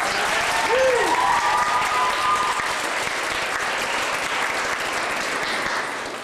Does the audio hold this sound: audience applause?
yes